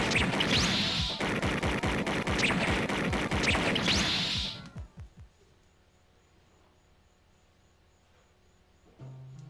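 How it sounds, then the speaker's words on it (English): Rapid, loud bursts of synthetic gunfire from the Sega CD game Snatcher crackle for about four seconds, then cut off abruptly, leaving only a faint low hum. "the gunshots are what drown me out"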